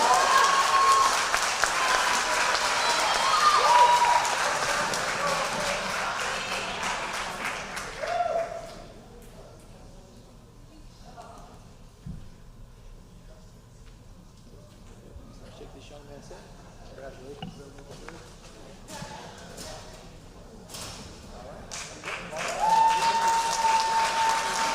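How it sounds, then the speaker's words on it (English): A crowd at an athletic awards banquet applauds the varsity baseball team and award winners with loud, sustained clapping. It fades into a stretch of talking and rises again into a fresh burst of applause at the end. "Let's give another big round of applause to our varsity baseball team, Coach Wardinsky, Coach Kavanaugh, and our award winners"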